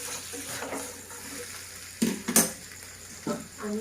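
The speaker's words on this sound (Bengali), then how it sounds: "আমি এতে ম্যারিনেট করার যে বাটিটা ছিল সেই বাটিতেই অল্প করে জল দিয়ে জলটা এতে দিয়ে দিচ্ছি" A pan of black pepper chicken sizzles softly and gets a splash of water poured in, followed by a few sharp bursts of spattering and light clinks of cookware against a low, steady fry.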